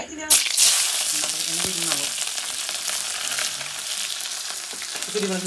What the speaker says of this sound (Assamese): তেল গৰম হোৱাৰ পিছত ধুনীয়াকৈ পিঁয়াজ জলকীয়া ফ্ৰাই কৰি দি দিম